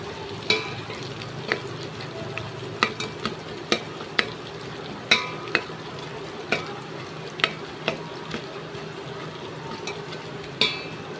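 Chicken pieces frying in hot oil while being stirred for a chicken kuzhambu, with a steady close sizzle broken by repeated sharp scrapes and clinks of the spoon against the pan, no talking.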